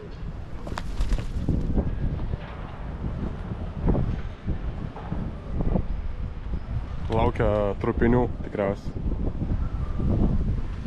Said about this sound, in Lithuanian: Jo, vėjas šiaip labai didelis.